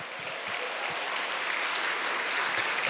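Applause from a seated audience at a company gathering, a soft, continuous wash of clapping, fairly distant and even throughout.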